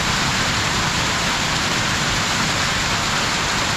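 Steady rain pours down during a mountain village stop in Ghandruk, a loud, even hiss of drops on surfaces without pause, close and continuous.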